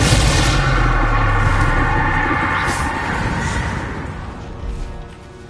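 A loud Confringo blast curse explosion in the Hogwarts Legacy video game, a heavy rumbling boom that fades gradually over several seconds.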